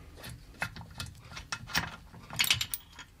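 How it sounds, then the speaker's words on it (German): Mechanical clicks and ratcheting taps from a screw being loosened on a Victoria Bergmeister V35 motorcycle engine during teardown, a scattered series of close, sharp metallic ticks with no talking. "Dazu tun wir einfach die Schraube lösen."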